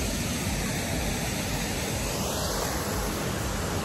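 Rushing water at Bokong Waterfalls roars in a steady, dense broadband wash that fills the whole clip without pause, loud and close, with no voices over it.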